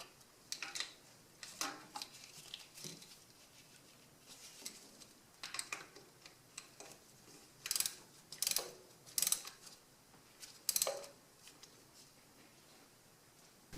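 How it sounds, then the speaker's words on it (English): Quiet ratchet clicks arrive in short bursts, with several sharper ratcheting runs near the end, as 14mm bolts are tightened on a Toyota Sienna 3.5L starter during a repair; no one speaks. "These bolts only need to be tightened to 28 pound-feet of torque, so really don't overdo it."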